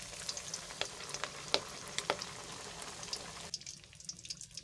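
Fish frying in hot ghee in a kadai, a busy crackle of sharp pops and spits over a steady sizzle that quiets slightly toward the end.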